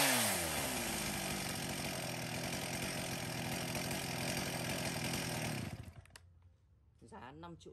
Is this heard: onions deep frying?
no